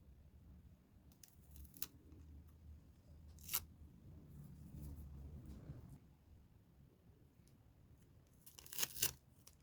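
Adhesive tape being pulled and torn to join paper sheets for a craft project, heard as a few quiet, close, sharp ripping bursts separated by soft handling rustle.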